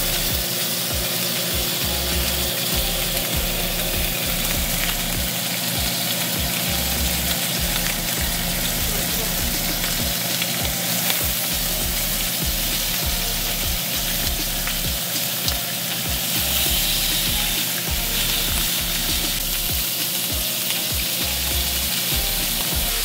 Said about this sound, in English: So while Chris is frying the bacon